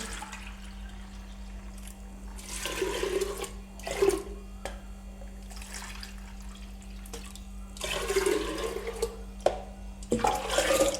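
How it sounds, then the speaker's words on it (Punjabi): Water is poured into a cooking pot holding soaked chana dal. Several separate splashing bursts of pouring stand out over a low steady hum, close and moderately loud, with no speech. "ਤਪਲੇ 'ਚ ਤੇ ਪਾਣੀ ਪਾ ਦੇਾਂਗੇ ਇਹਦੇ 'ਚ"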